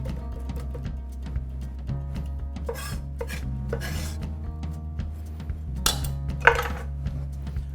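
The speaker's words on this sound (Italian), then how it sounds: "Aggiungiamo un po' di maggiorana e basilico, ci diamo una leggera tritata." A knife chops marjoram and basil in a few short scraping, rasping strokes over a low steady hum with faint clinks.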